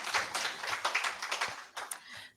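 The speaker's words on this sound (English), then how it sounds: "Great, a round of applause," An audience at an HIV prevention conference panel session gives a round of applause. The clapping is steady and dense, a fairly soft patter of many hands that fades briefly near the end.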